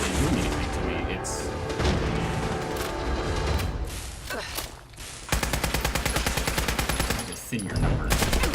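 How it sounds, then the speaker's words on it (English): Rapid gunfire in Fallout 4 aimed at the player: dense, loud bursts of automatic shots and booming blasts that run continuously, with a steady rattling stretch of repeated shots in the second half. "who the hell is shooting me with a gun? Like a legitimate gun."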